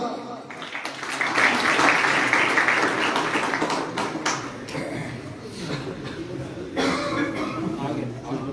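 An audience clapping at a pigeon-flying club's prize distribution ceremony in Haripur, a dense burst of applause that thins out while an announcer keeps talking over a microphone.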